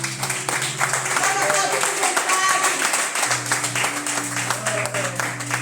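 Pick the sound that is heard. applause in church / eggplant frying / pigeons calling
applause in church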